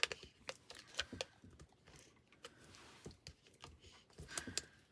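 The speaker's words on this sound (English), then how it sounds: "I am really pressing down on my tape runner there" A tape runner pressed and rolled onto a handmade card, a series of soft clicks and taps with brief scraping, close but quiet, irregular in rhythm.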